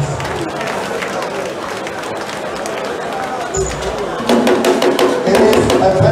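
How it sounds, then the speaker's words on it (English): Audience applause for the marshals at a boxing event before a WBO Africa lightweight title bout, crowd clapping and murmur under a talking announcer, swelling louder near the end with distinct claps. "Shall we put a hand of applause for the Marshals?"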